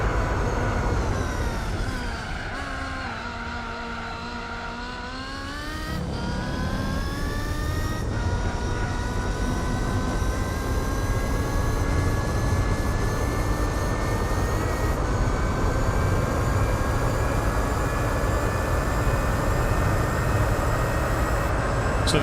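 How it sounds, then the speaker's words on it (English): Turbocharged engine in Gran Turismo 4 spooling up with a rising, jet-like whine over a steady, loud engine roar, holding continuously with harmonic pitches climbing and leveling off, no voices. "the sound of those spooling turbos makes the car sound like a jet engine"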